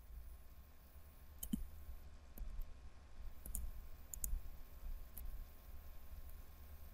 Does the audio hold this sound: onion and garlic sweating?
no